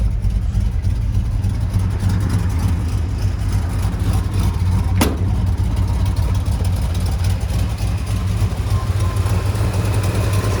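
A 1970 Mercury Cyclone GT with a 429 Cobra Jet V8 and four-speed manual idles loud and close, a steady deep rumble running unbroken, with a single brief sharp click partway through.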